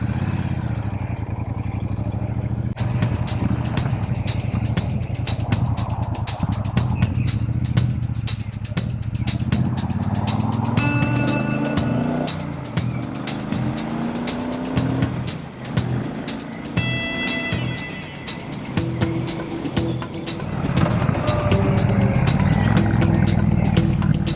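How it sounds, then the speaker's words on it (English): A 2020 Triumph Speedmaster motorcycle engine rumbles loudly and steadily while riding under a highway overpass, with the echo filling the sound. Pitch shifts as the rider makes a U-turn. "when you ride through here you get the echo of your engine and everything else"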